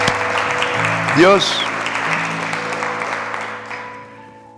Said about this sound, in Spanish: ¿Cuántos aplauden a Dios?